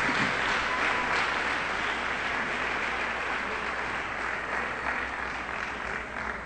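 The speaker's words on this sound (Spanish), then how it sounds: "Denle el aplauso al que vive" Applause from a church congregation during a night vigil service, steady and dense clapping filling the whole stretch without a break, fairly loud and close.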